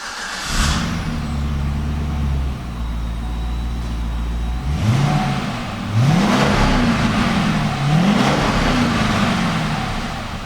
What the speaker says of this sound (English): I'm going to hop in and fire it up, give you the sound, what the exhaust sounds like here from the rear